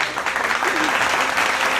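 Studio audience applause on a Ramzan game show set, a brief dense burst of clapping with a voice faintly under it.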